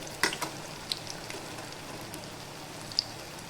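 Malpua frying in ghee or oil in a kadhai over a medium-to-low flame makes a soft, steady sizzle with a few sharp pops and crackles scattered through it.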